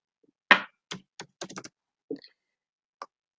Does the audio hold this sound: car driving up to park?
no